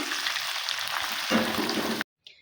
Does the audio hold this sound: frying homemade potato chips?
yes